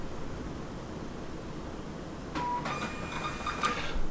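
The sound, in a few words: Zebra printer printing a label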